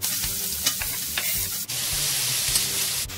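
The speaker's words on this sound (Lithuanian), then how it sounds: "Kol kepa svogūnas," Onion fries in a pan, giving a loud, steady hiss near at hand, broken by a few sharp clinks and scrapes of stirring, with no speech.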